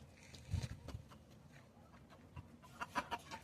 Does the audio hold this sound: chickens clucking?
yes